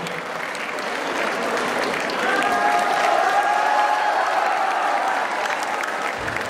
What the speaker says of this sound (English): Give him a huge round of applause